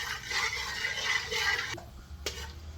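Whole black pepper, cloves, black cardamom, star anise, cinnamon and curry leaves fry in hot oil with a steady, close sizzle and crackle for a mutton curry, then a spoon scrapes and clinks against the pan as the sizzling eases.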